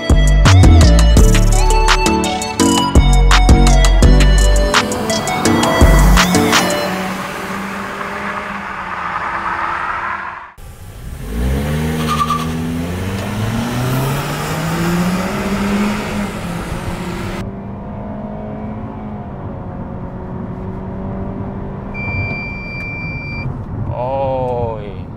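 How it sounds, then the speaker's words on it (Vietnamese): A Toyota Camry 2.0Q accelerating from 0 to 100 km/h, its engine rising in pitch through several gear changes in a long steady run, with a beeping tone near the end. "chúng ta sẽ test những cái thông số sau là cái khả năng tăng tốc của chiếc xe này từ 0 đến 60 km/h và từ 0 đến 100 km/h"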